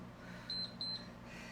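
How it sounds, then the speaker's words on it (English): A workout interval timer gives two short, high electronic beeps in quick succession, clear over a quiet room hum. "Ignore this first beep coming up."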